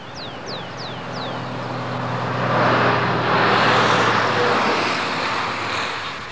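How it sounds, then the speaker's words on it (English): Speeding trucks pass by a French sunflower field, a steady engine roar swelling louder toward the middle and slowly easing off, with a few short chirps near the start. "Peace and serenity of this French sunflower field is to be broken this weekend by the sound of"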